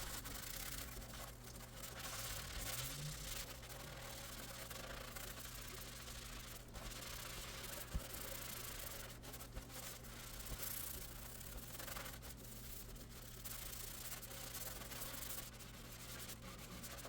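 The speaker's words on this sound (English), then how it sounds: "these are some great scrubbing sounds" A kitchen sink being scrubbed in a continuous, quiet, rasping rub that rises and falls in strokes, with a low steady hum in the background.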